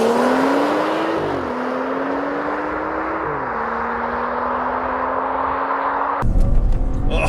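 A 2014 BMW 435i with all-wheel drive launches and accelerates hard, its engine note climbing steadily through two gearshifts before a sharp, louder noise cuts in at the end.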